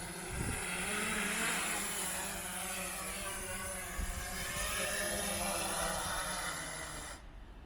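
A DJI Mavic 2 drone returns to its home point, a steady propeller buzz under a broad rushing drone that holds throughout and cuts out near the end.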